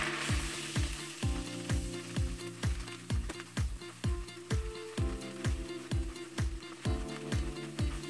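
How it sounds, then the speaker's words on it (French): Melted butter and flour sizzling in a cooking pot as a roux is stirred, a steady fry with a regular beat of spoon strokes running throughout, close and loud. "Bien tourner pour environ 2 à 3 minutes."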